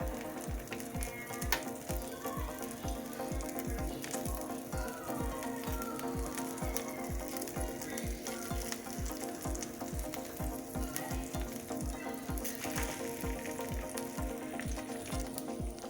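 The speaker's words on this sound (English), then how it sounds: "So I'm heating the pan I used for frying the chicken. So I'm placing it into the pan." Constant crackling sizzle of food frying in a hot pan, steady and moderately loud, with a rhythmic low thumping underneath.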